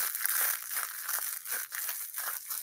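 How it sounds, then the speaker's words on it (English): Crisp, rustling crinkles from a plastic cat toy being squeezed and scrunched in quick repeated bursts, close up and fairly steady for a few seconds. "let me get one of the cat toys to tell you what sound it would make"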